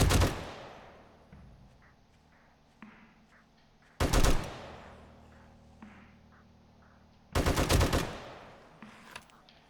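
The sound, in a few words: gunfire in 7 Days To Die video game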